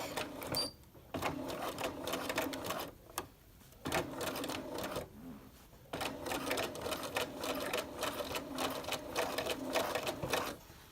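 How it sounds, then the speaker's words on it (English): A sewing machine stitches a dart along a marked line, its rapid mechanical whirr running in short bursts separated by brief pauses, quiet and close. "I'm just going to sew on my nice purple line."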